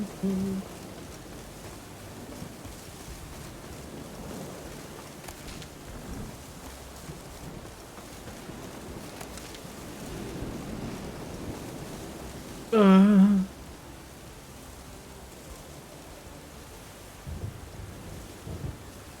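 A video game thunderstorm builds through steady rain hiss with low rolling thunder rumbles, and a brief tonal game cue cuts in near the middle, all without talk.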